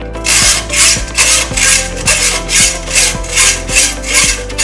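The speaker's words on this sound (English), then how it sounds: "I will try now with a hacksaw." A hacksaw cuts into a hardened Artu padlock in close, loud, even rasping back-and-forth strokes, about two per second, with a faint clink at each turnaround.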